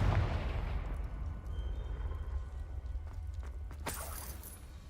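Confringo fire spell exploding in Hogwarts Legacy inside Salazar Slytherin's maze: a heavy booming blast with low rumble and a sharp crack late in the moment, loud and close, with no talk over it.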